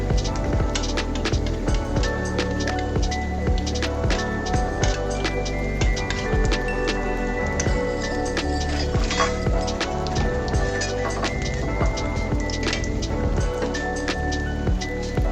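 Beguni, battered eggplant fritters, deep-frying in oil, with a dense, steady, rain-like crackle that stays loud and close without a break, and faint clinks and tonal sounds mixed in.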